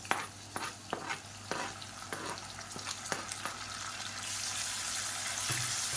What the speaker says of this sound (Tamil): இப்போ எண்ணெயில் நல்லா வதக்கிக்கலாம்